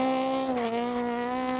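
A competition drift car swings into a reverse entry, producing a brief, sustained high squeal of skidding tires with a slight wavering dip in pitch, fairly close and alone.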